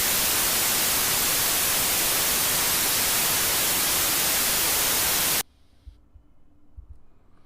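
Steady, loud broadband hiss of a white noise test signal fills the first five seconds alone, then cuts off abruptly to near silence with faint low hum.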